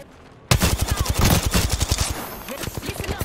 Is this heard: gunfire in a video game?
yes